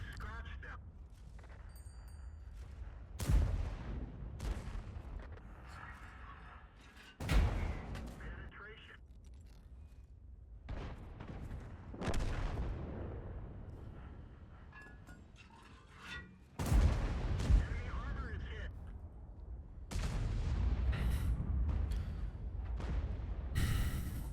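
Heavy tank cannon shots from an E-100 in World of Tanks, several sharp booming blasts spaced a few seconds apart, with someone talking quietly between them.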